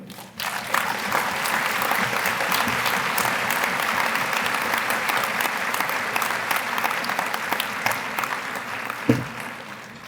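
An audience at a public employees diversity conference applauds a keynote speaker, a sustained, even wall of clapping from a large crowd lasting about ten seconds, with a brief thump near the end.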